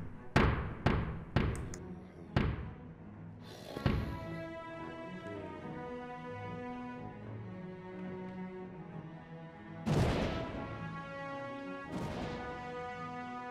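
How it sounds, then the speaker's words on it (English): Cannon fire at an attacking ship in the video game Die With Glory: a quick run of sharp booming shots, then a ringing sustained tone, with two more heavy blasts later, all clear and close. "we want to make our way up to the left-hand cannon, and we're going to fire that one at the attacking ship"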